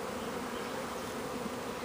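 A June honeybee swarm settled in a low tree makes a dense, continuous buzz of many bees at close range, steady throughout with no voices.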